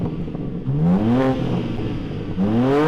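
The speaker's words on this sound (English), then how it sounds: "Rev up the new M4, will you?" The new BMW M4's engine revs twice, each time rising sharply in pitch and then falling back. It sounds close and loud, with a steady mechanical hum between the revs.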